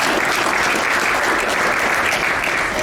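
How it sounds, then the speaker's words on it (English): An audience claps steadily and loudly throughout, a dense, even wash of applause at a chiropractic talk, with no voices on top. "Give her a round of applause."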